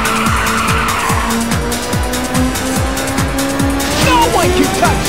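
Video game car drifting around a Midtown street circuit in Ridge Racer 2, with a loud, sustained tire squeal riding over a steady engine drone, plus rhythmic repeated thumps and brief high chirps near the end.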